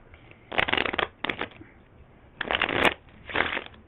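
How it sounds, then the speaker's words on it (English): Card shuffling in several bursts: two quick riffles, a short pause, then two more riffle bursts, crisp and close with no talking. "I'll give it one more shuffle just to show you that"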